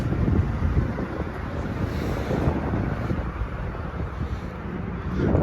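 Strong gusting wind buffets a truck hauling a trailer through stormy Wyoming weather at night, a steady loud roar of wind noise with no voices.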